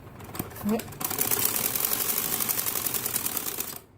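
Sewing machine stitching the hem of a salwar, a rapid, even mechanical whirr running for several seconds after a brief handling sound, close and moderately loud.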